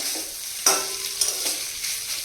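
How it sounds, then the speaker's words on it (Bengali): Shrimp sizzle in a pan with cumin and coriander powder, a steady close frying hiss broken by a couple of sharp spatula scrapes and stirs. "এই দিয়ে ভাজা ভাজা করলাম চিংড়ি মাছ"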